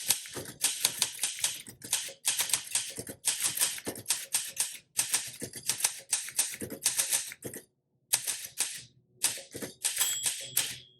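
Brisk typing on a blue 1962 Olympia SM7 manual typewriter, with sharp clacking keystrokes in rapid bursts and short pauses, close and clear, ending with a light ring of the bell.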